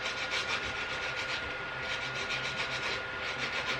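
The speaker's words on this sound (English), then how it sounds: "when you're cleaning it and you're running the sandpaper back and forth" Sandpaper rubs back and forth on the commutator of a brushed 540 can hobby-grade RC motor, a close, continuous rhythmic scratching with no pauses and no voices.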